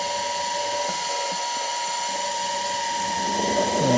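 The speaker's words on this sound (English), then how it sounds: "I'm going to drill this" Power drill boring a hole in metal for an 8mm tap on a Tacoma ditch light mount, a steady high whine held throughout, close and loud, with a slight rise at the end.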